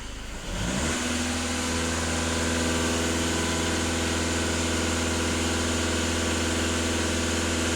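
A VW Golf 2.0 TDI EA288 diesel engine held at full throttle, close and loud, rising quickly from idle into a steady, sustained high-revving drone with strong engine hum and vibration.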